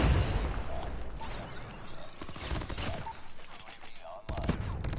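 Rapid bursts of PPSh submachine gun fire and grenade blasts in the mobile shooter game COD Mobile, loud and dense with clattering automatic volleys and sharp impacts across the whole stretch, with a voice faintly underneath.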